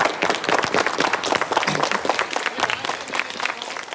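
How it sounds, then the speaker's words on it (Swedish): A small crowd claps steadily and fairly loudly, a dense patter of hands that carries on the whole time. "Då ger vi en applåd."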